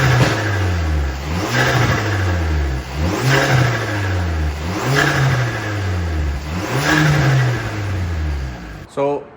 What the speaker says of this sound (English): I wasn't personally expecting the flutters, so that's a nice surprise. That is the best noise a turbo can make